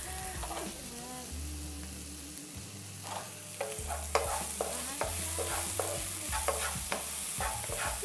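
Spices sizzling as they are stir-fried in a pan for paleo kung pao chicken, a continuous close fry broken by a quick stir with clinks and scrapes of the utensil, no talk.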